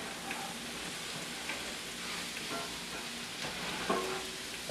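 Onions and vegetables fry in a hot pan with a steady, close sizzle, broken by a few soft stirring clicks.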